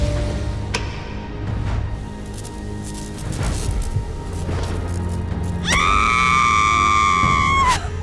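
A woman screams for about two seconds after a syringe injection, a loud high sustained cry cutting over a dramatic backdrop of booms and music.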